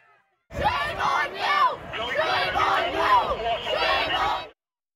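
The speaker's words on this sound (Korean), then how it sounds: "이내 학생들과 경찰은 강하게 충돌하고 시위대는 야유를 퍼붓습니다" Protesters at Columbia University confront police with a loud, sustained roar of booing and shouting voices that rises abruptly, swells in waves for about four seconds, then cuts off.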